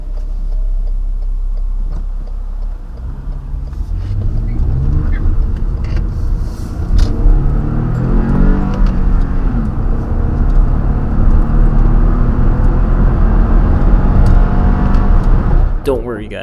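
A Lexus ES 350 sedan in sport mode pulls hard, its engine building steadily in pitch and volume, a loud, close rising roar that continues for several seconds.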